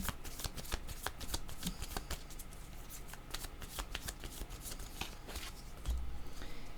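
Tarot cards are shuffled close by in quick, crisp riffling bursts that repeat steadily for several seconds, with no one talking.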